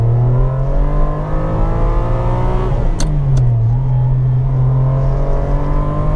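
Ferrari 550 Maranello V12 pulling hard up through the gears, loud and close from inside the car, with a steady climbing engine note, a brief dip at a shift, then rising again.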